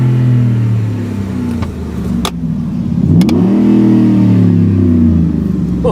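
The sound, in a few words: Ford Raptor 6.2 litre exhaust revving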